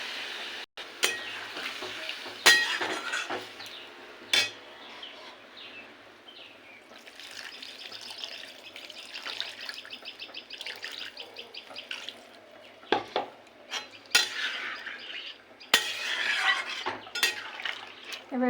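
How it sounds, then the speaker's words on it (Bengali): Water poured into hot oil in a pan while cooking doi gathi hisses and sizzles, with clinks of a metal utensil against the pan and irregular bursts of crackle throughout. "তেল ছেড়ে এসছে, এবার দিয়ে দেবো জল"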